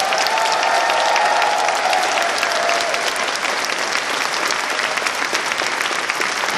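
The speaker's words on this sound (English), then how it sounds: "Let's give one huge round of applause for the folks from DLCC." A large audience applauds at the Anthrocon opening ceremony, loud, sustained, even clapping filling the hall from start to finish, with a faint tone briefly audible underneath early on.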